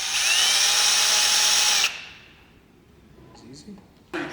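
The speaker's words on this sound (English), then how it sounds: "So we're gonna drill it out." A power drill bores through the oil pan baffle of a BMW 135i engine, a loud high whine for about two seconds that stops abruptly, followed by quieter handling noises and a brief voice.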